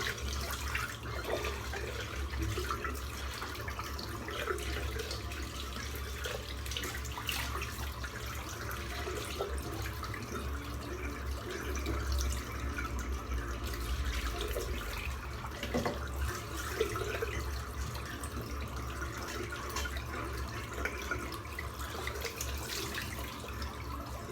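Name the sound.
rinsing soap out of shaving brush under tap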